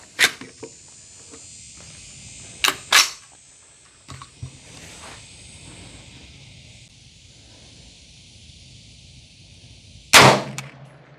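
A budget 300 Blackout rifle firing at an outdoor range, with a few sharp, loud reports spaced seconds apart, the last a single shot near the end, over a steady background hiss.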